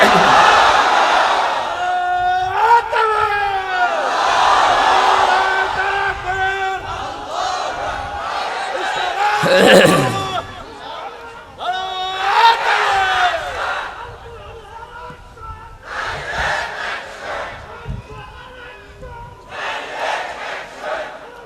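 A large crowd at a mass rally in Rajshahi roars the takbir chant in repeated loud waves answering a leader's call, with voices swelling and fading over about twenty seconds.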